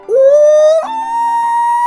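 A man whistles an imitation of a common loon's wail: a rising, sustained tone that breaks and steps up to a steady higher pitch, loud and close, with no other sounds.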